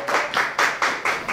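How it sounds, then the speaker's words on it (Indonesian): A short burst of hand clapping for a judge at a marawis music contest, several loose rhythmic claps in quick succession, fairly close. "Tapi beri tepuk yang meriah untuk Bu Lura."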